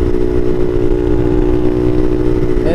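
Bashan Motomax 250 motorcycle fitted with a Nibbi PE30mm carburetor, its engine running steadily at a close, loud, even idle-like drone with a faint clatter throughout.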